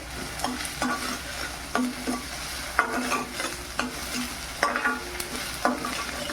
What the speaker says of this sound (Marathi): जोपर्यंत टॉमॅटो आपला नरम नाही होत तोपर्यंत आपल्याला ढवळायचं आहे